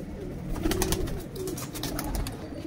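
Pigeons cooing in a fancier's loft, soft repeated coos over steady low rumble and background chatter of birds, moderately close and continuous throughout.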